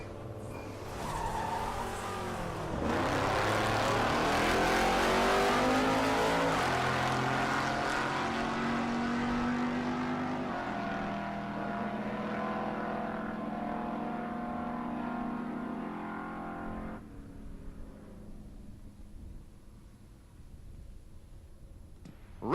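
A 70 Duster and a GMC launching down a dragstrip, a loud roaring engine burst that swells and holds, then slowly fades into the distance as the cars pull away.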